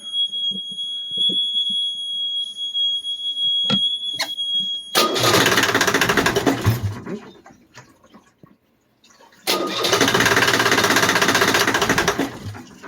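The not-yet-warmed-up engine of a 1990 Pacific Seacraft boat cranks and catches twice, each time running with a loud, rough, steady chug before cutting out briefly; a high electronic tone beeps beforehand.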